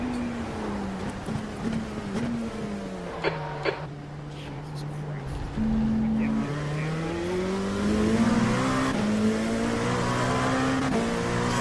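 LMP2 prototype race car engine in the iRacing sim, droning steadily and rising and falling in pitch through gear changes and corners, with people talking over it.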